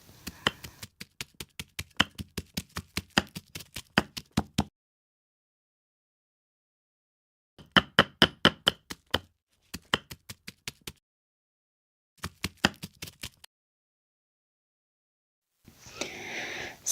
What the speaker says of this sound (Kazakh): Пиязымызды ұсақтап кубик етіп турап аламыз.